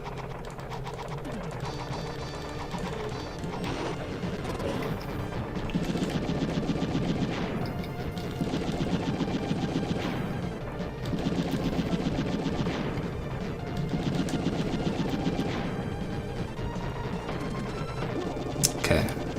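Rapid gunfire from the SNES shooting game Wild Guns, played in co-op, rattles in loud, dense bursts over busy game music and explosions throughout.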